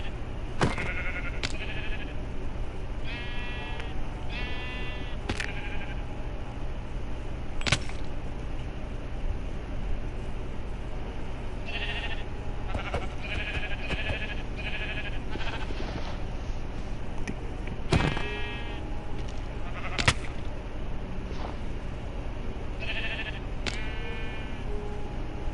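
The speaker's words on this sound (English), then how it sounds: "And I found a sheep." Minecraft sheep bleating repeatedly, a string of short wavering baa calls scattered irregularly over a quiet game background, interspersed with occasional sharp clicks and taps.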